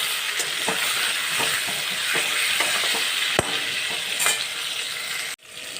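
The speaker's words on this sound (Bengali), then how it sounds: "নুন আর হলুদ দিয়ে ভালো করে এটা ভেজে নিই" Potato pieces sizzle in a hot pan with salt and turmeric while cooking for a country chicken curry; a steady close frying hiss with occasional clinks and scrapes, cutting off abruptly near the end.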